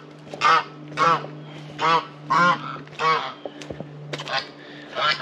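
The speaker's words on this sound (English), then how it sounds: "I don't know if it's a Chinese geese here or not" Chinese geese on a rainy homestead honk in a series of about six loud, nearby calls spaced roughly a second apart, with a low steady background hum between them.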